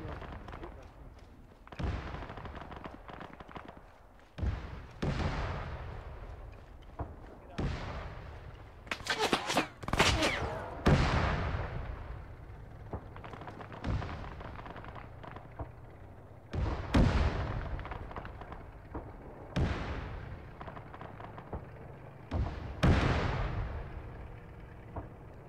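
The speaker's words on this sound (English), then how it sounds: "That artillery is way too fucking good, too." Heavy artillery fire in a WW2 battle video game, with repeated loud booming blasts at irregular intervals, each decaying into a rumble, plus a burst of rapid gunfire in the middle.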